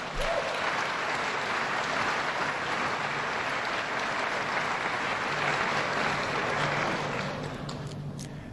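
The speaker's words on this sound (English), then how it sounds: "Give them a round of applause." Thick, continuous applause from a large audience during a governor's State of the State address in Buffalo, loud and even for most of the stretch before tapering near the end.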